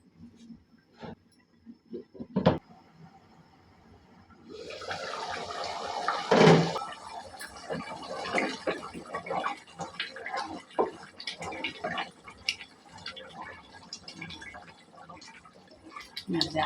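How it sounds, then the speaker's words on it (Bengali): Rohu fish fries in a pan for bhuna, a soft sizzling hiss that starts a few seconds in and continues steadily, with occasional utensil clatter and a person talking over it. "এই যে এখানে আমি রুই মাছ ভুনা করতেছি।"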